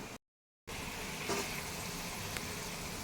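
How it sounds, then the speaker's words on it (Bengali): Potatoes frying in oil until reddish-brown for aloo dum, a steady low sizzle that holds evenly after a short silent gap at the start, moderately faint and close. "একদম লাল লাল করে ভেজে নিচ্ছি আলুটা"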